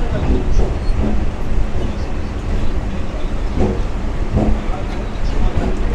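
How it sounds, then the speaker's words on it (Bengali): A train pulling out of Tala station in Kolkata rumbles loudly and steadily with rhythmic wheel clatter, heard from on board and up close, with voices talking faintly underneath. "ট্রেন ছেড়ে দিল আপনার টালা স্টেশন"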